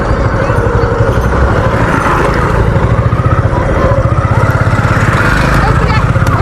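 Motorcycle riding along a village road, its engine chugging steadily and loudly close to the microphone, with wind rush and a rhythmic pulsing throb running the whole time.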